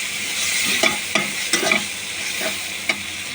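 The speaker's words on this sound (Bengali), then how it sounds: "এটা দিয়ে আমি একটু কষিয়ে নেব কিছুক্ষণ" Potato pieces stir-fried with spice paste in a pan for a pea-shoot bhuna, a steady sizzle broken by a handful of sharp spatula scrapes and knocks at irregular intervals, close and fairly loud, with no talking.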